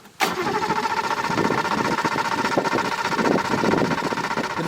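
A Suzuki LJ50 two-stroke engine, unused for five years, catches after a sharp start and runs on steadily, a buzzy, busy idle close by with uneven pulsing and no talk.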